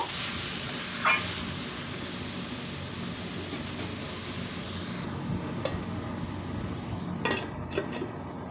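Bottle gourd cooks in a pan for a lau ghonto, giving a steady low sizzle with a few scraping spoon strokes against the metal, close and continuous.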